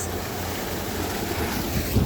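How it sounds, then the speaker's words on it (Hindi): A tube well pump gushing water after its reversed wiring was fixed, making a loud, steady, broadband rushing wash that rumbles on without a break. "ये पानी आ रहा है"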